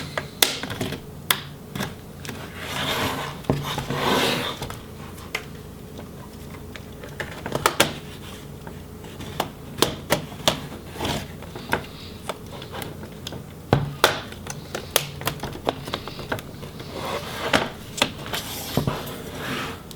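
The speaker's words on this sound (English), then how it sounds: "just work a flat tool in there until you pop that palm rest up off of the chassis" A flat tool pries the palm rest off an Alienware M17x laptop chassis, giving irregular plastic clicks, snaps and scratchy scraping at close range, with small pops spaced across a quiet background.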